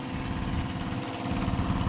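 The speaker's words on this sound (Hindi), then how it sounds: "ये पानी है जो इस इंजन के जरिए से निकाला जा रहा है" Engine-driven pump drawing flood water out of a flooded neighbourhood, a steady loud mechanical drone with rapid chugging pulses, continuous and close with no talk.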